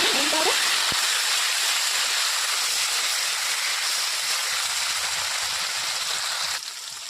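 Dried red chillies, curry leaves, garlic and tomato sizzling in hot oil in a pan as a chicken fry is cooked, giving a steady, loud hiss that lasts the whole time before easing slightly at the end.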